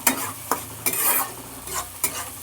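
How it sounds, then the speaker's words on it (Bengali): Spices for ghugni sizzle oily in a pan, lightly browning, steady and close, broken by a few sharp scrapes and clinks of stirring. "খুব বেশি লাল করব না হালকা বাদামি করে একটু ভেজে নেব"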